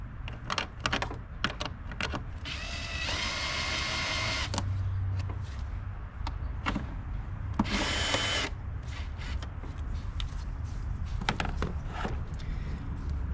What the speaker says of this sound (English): Now I'm gonna remove these two bolts right here using a 1/4.